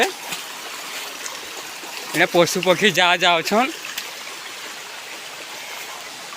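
Stream water flows steadily through a forest, a constant close rushing wash, with someone speaking briefly over it midway.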